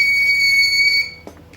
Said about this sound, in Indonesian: Nah, maka buzzer akan berbunyi.